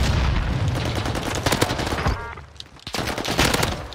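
Dense, loud automatic gunfire in the Warzone game, rapid bursts filling most of the stretch with a short lull before the shooting resumes up close.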